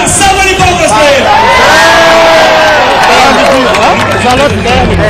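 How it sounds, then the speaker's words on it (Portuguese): A large outdoor crowd at a Brazilian Day festival in New York cheers, whoops and shouts loudly and continuously, a dense wall of voices with some clapping. "Quem achou horrível, uma salva de palmas pra ele."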